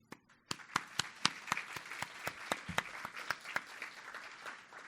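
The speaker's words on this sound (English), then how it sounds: "So I want to give a round of applause again for the Latino panelists and for Yvonne and for Jonnathan for the great presentation." Audience applause for panelists at a chamber of commerce business breakfast event, starting after a brief pause with sharp, distinct claps that thin out over several seconds, moderately close and alone without talk.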